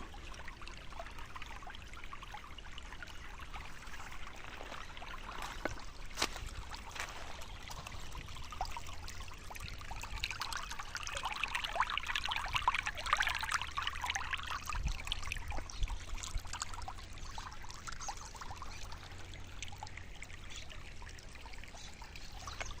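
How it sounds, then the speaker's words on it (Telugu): Water runs in a large village stream that feeds the Godavari, a faint, steady trickling wash heard from nearby and unbroken for over twenty seconds. "ఒకసారి వాగులోని నీళ్ళు ఎలా ప్రవహిస్తాయి దాని సౌండ్ ఎలా ఉంటుందో"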